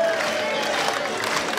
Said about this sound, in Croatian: publika se digala, viću